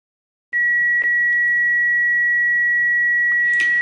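A steady pure sine tone from a tone generator app plays through a small speaker, starting abruptly and holding constant, with a few faint clicks and knocks around it.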